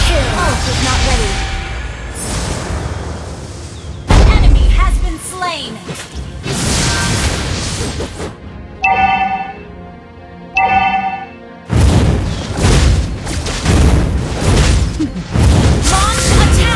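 A turret blows apart in Mobile Legends: Bang Bang, with sharp explosive crashes and booming hits up front, set among busy battle effects, chimes and music.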